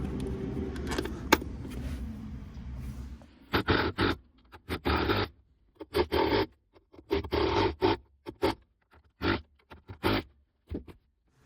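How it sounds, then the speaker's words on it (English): Metallic scraping and rattling of bolts being refitted on a Citroën C1 / Peugeot 107 / Toyota Aygo gear shift selector, in short bursts spaced a second or so apart, close to the microphone. "put that in like that, get that in the area it needs to be, like so, and then we put the bolts back in"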